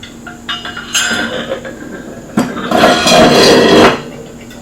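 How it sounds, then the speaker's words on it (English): Metal clinks and scrapes of an EPI spring puller sliding onto the secondary clutch of a Polaris RZR 900S, two bursts of close, moderately loud handling with a quieter gap between. "Slide it on. Slide the puller on."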